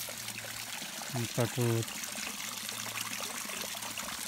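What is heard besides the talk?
spring water trickling from a plastic pipe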